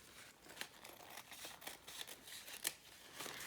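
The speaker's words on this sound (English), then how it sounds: "So I'm just gonna cut this down the middle and cut this side." Scissors cutting patterned paper for a decorated journal page, a faint, quiet series of soft snips and rustles heard close by with no talking.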